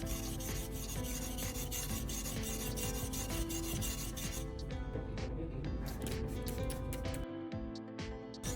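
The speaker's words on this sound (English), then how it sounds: "Once I've established a consistent burr, I switch to the finer number 800 grit side of the stone." Continuous close rasping as a chisel is honed on the 800 grit side of a whetstone with a honing guide, steady back-and-forth strokes running throughout and easing off near the end.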